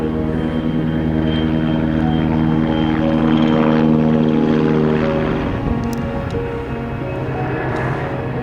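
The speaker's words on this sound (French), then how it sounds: "Un hélico." A helicopter drones in the snowy High Tatras mountains in Poland, a sustained, fairly loud rotor and engine hum that shifts as it passes, with light crunching noises close by.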